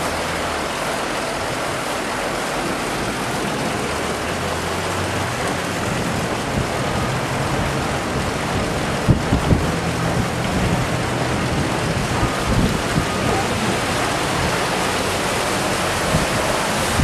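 Floodwater in a residential community in Riverton, Utah rushes past in a loud, unbroken roar of broadband turbulent noise, steady for the whole stretch with a brief knock or thud partway through.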